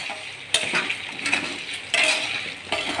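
Spices and flat beans sizzle steadily in a hot pan for a pepper chutney while a utensil stirs and scrapes them, with sharp clinks at intervals.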